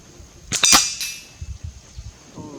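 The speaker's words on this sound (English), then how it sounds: "I'm going to take the shot to see where my holdover is" A single NX200 Athena nitro piston air rifle shot firing a pellet, a sharp close crack followed by a brief ringing tail, then quiet low rumbles of the surroundings.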